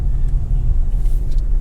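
A 1999 Toyota Camry used as a farm runabout drives along, its low, steady road rumble and engine drone filling the clip, heard up close and alone.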